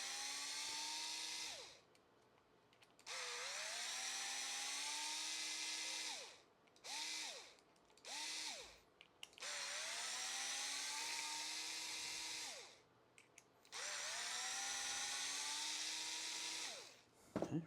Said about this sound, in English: Okay, first our 30mm screws come out.